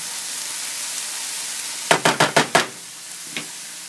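Mushrooms and onions sautéing in a pan with a continuous hiss, then a quick run of five sharp utensil knocks or taps against the pan and one softer tap after, close and alone.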